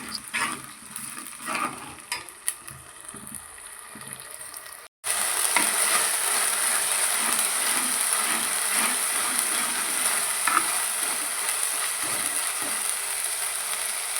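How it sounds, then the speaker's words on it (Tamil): Ginger garlic paste fries in oil for pepper chicken varuval, opening with rattling scrapes of stirring, then after a brief cut settling into a steady, fairly loud sizzle. "இஞ்சி பூண்டு பேஸ்டோட ஈரப்பதம் போய் நல்லா எண்ணெய் பிரிஞ்சு வெந்து வரணும்"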